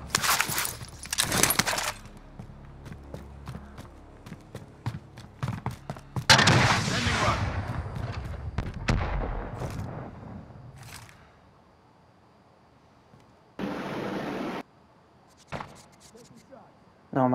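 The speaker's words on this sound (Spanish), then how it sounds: "te están disparando de otro lado" Bursts of rapid gunfire in Call of Duty: Warzone, loud sharp cracks clustered early and again near the middle, then fading, with a few later isolated shots and players talking over it.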